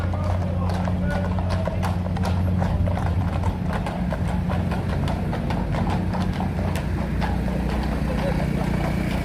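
Horses walk past at a Unite the Kingdom gathering, their hooves clip-clopping in a steady, uneven rhythm on hard ground, close and clear, while people talk and traffic hums in the background.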